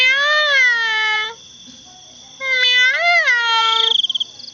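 A cat meows loudly and close by in long, drawn-out wavering cries: one sustained call, a pause, then a second rising-and-falling meow ending in a quick trembling flutter.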